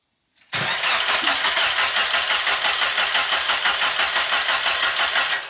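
A rebuilt Mazda Miata engine cranks and catches after a brief silence, then settles into a loud, steady, rhythmic idle close by with no voices.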